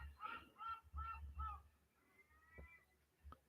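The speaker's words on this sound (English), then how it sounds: "the seagulls are making a noise in the background" Seagulls calling in the background, a run of four quick honking cries followed by a couple of fainter, shorter calls, heard at a moderate distance and fairly quiet.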